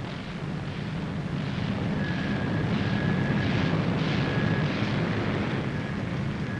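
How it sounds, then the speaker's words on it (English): A B-17 Flying Fortress bomber's piston engines roar steady and loud as it taxis round into the wind, a dense rumbling drone that swells slightly midway. "the first plane hauls her nose round into the wind"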